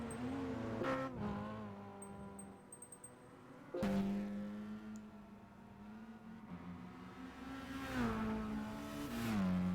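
A Citroen race car engine in Gran Turismo 5 drones in the near foreground for several seconds, its pitch dropping sharply around the four-second mark and rising again later as it revs.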